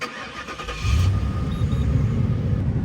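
A Ford Police Interceptor with 130,000 miles and a lit check engine light cranks briefly, then its engine catches and settles into a loud, deep, steady idle close by.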